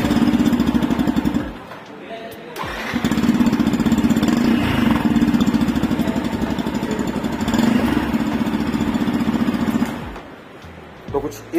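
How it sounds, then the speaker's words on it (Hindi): A 2022 Yamaha FZ X motorcycle engine idling, its exhaust note a steady close putter that rises slightly in the middle and dies away near the end. "अब इसका एक बार एग्जॉस्ट नोट भी मैं आपको सुना देता हूँ"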